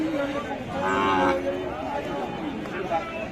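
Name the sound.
cow and calf at a cattle market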